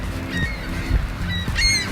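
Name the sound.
seagulls calling by Lake Michigan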